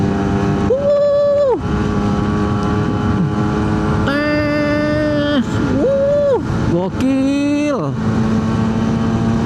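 Suzuki A100 two-stroke motorcycle engine, freshly rebuilt, revving hard on an open highway, with rising and falling pitch through repeated throttle pulls and gear changes, loud and close, with someone speaking over it.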